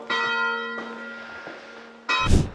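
Church bells ring with sustained metallic tones, struck twice with a long ringing decay between strikes, clear and fairly close, heard from inside an apartment building being toured.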